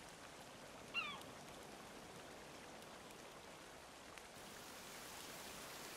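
Rain falls in the survival video game The Forest, a faint, even hiss of steady rainfall with one brief soft knock early on and no voices.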